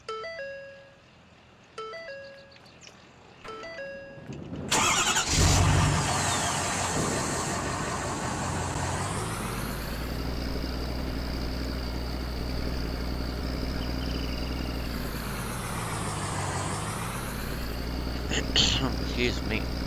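Pickup truck in Farming Simulator 19 starts with a sudden burst, then settles into a steady idle with rises and dips in engine pitch, a short tone sequence before it and faint vocal sounds.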